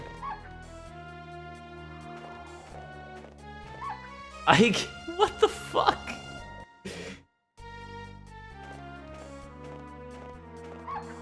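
A dog barks and yips repeatedly in the Mizzurna Falls video game, with sharp bursts clustered mid-clip over game music, while a player speaks with alarm.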